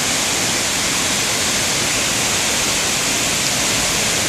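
Buruisan Falls, a waterfall about six storeys high, pours in a dense, unbroken roaring rush, loud and close, with no voices over it.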